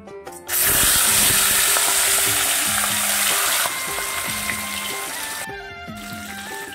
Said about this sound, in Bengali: তেলটা গরম হয়ে গেছে, এবার মাছগুলো দিয়ে আমি ভেজে নেব।